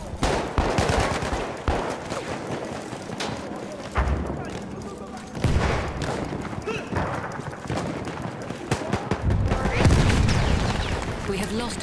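Machine gun fire in the Battlefield 1 video game, played in hardcore mode: bursts of rapid shots and booms mixed with other battlefield noise, with voices calling out over the fighting.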